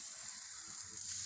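Spinach paratha fries in oil on a pan, giving a steady, close hiss of sizzling with no voices.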